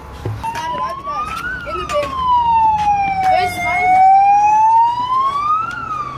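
An ambulance siren wails nearby at a beach skatepark, its pitch sweeping slowly up and down in long cycles, loud and continuous with traffic noise and brief voices around it.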